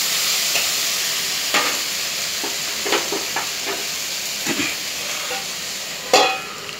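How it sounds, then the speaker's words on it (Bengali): Ginger and green chillies sizzle in an oiled pan, a continuous hiss broken by scraping, knocking stirs at irregular intervals, with one sharper clack near the end; nobody speaks. "একটু নাড়াচাড়া করবো আদা কাঁচা লঙ্কা দেওয়ার পর"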